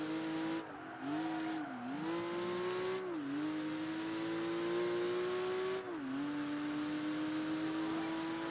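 A race car engine in Project Gotham Racing 3 holds a steady, sustained tone, with a few brief dips in pitch as it shifts or lifts off, loud and continuous throughout.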